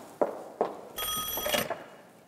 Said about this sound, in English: Mary, get the phone.